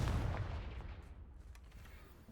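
The fire spell Confringo lands in Hogwarts Legacy as a heavy explosive boom that rolls and fades over about two seconds, loud at first then decaying, with no talk.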